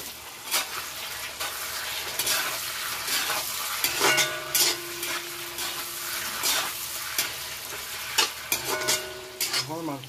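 Marinated duck meat fries with onions in a hot pan, a steady sizzle broken by repeated scrapes and clinks as it is stirred, close and fairly loud with no talk.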